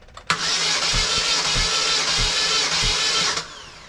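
Car engine cranking on the starter during a compression test on cylinder 3, with a gauge showing only 20 psi: steady whirring starter drone with regular rhythmic low thumps of compression strokes, loud and close, for about three seconds and no speech.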